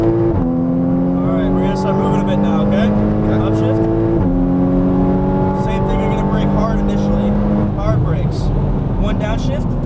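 A Porsche Cayman GTS engine revs hard on a race track, pitch climbing steadily then dropping at each upshift, loud and continuous from inside the car, with an instructor talking over it.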